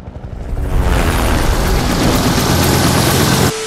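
Helicopter sound effect in the basketball video game NBA 2K20, a loud, steady rotor and engine roar that swells in over the first second and holds before cutting down sharply near the end.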